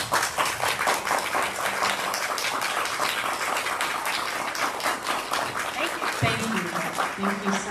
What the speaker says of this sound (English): May we give our panelists and our facilitator a round of applause, please?